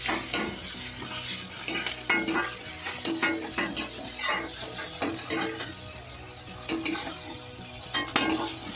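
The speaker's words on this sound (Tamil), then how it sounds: "அடுத்தது கருவேப்பிலை. கொஞ்சம் நல்லா வதங்கணும்." Curry leaves sauté in a pan for rava kichadi: a steady close sizzle runs throughout, broken by repeated scraping stirs of a utensil against the pan, with no voices.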